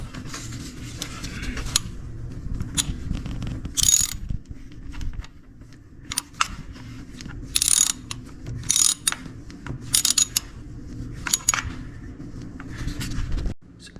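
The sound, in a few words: ratchet tightening spark plug on Honda Accord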